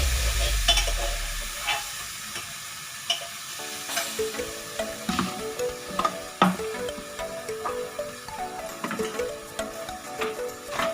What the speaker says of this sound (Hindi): हम इसे अच्छे से चला देंगे। अच्छे से ऑयल में अच्छे से कोट हो गई है।